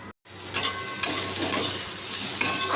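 Neem leaves and pumpkin fry directly in hot oil with no tempering spices, a steady near sizzle punctuated by rhythmic spatula scrapes about every half second after a brief silent gap.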